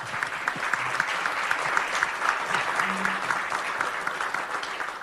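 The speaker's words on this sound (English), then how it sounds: "So you should now applaud for the sponsors." A luncheon crowd at a political event applauds its sponsors with even, sustained clapping from many hands, moderately distant and steady throughout, with brief murmurs of voices underneath.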